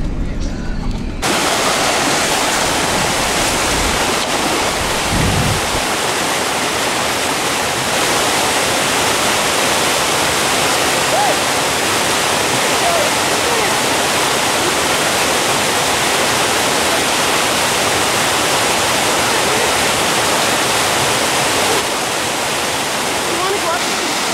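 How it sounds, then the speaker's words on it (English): A waterfall on a Torrens River hike pours in a dense, steady roar that fills the whole stretch, loud and close, with no voices over it. "we did see one waterfall, and you can take a look right now and see what it was like"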